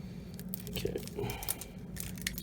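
Plastic wrapper of a Munchkin trading card game booster pack being torn open up close, a soft continuous crinkling and ripping with a few sharper tears, fairly quiet and without talk.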